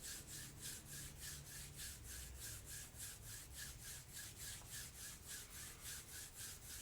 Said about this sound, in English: just bringing your hands together, rubbing your palms